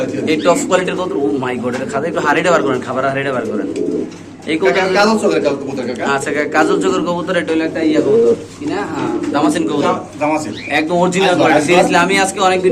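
Pigeons coo under near-constant talking, their low burbling calls mixing with the voices throughout.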